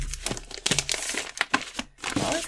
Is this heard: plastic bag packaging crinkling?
yes